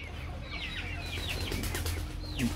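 Free-range native chickens cluck and chirp in a run of short rising and falling calls over a constant low outdoor hum, with a faint flutter near the close.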